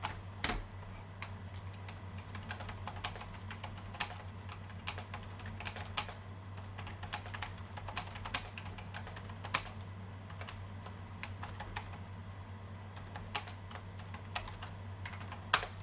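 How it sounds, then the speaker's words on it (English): Someone types steadily on a cheap Five Below rubber dome gaming keyboard, producing soft, muted key clacks in an irregular stream with the occasional firmer press, close up over a low steady hum. "This is a very cheap rubber dome keyboard."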